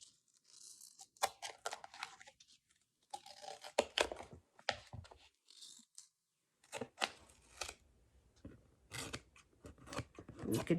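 Scissors snipping paper overhang from a Graphic 45 nature notebook base album, a string of crisp close cuts and rustling paper in uneven bursts with brief pauses, quiet and with no talk.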